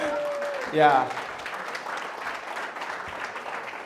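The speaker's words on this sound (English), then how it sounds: "So give her a round of applause." Audience applause in a team meeting room, a steady moderate patter of clapping that continues after a short spoken word at the start.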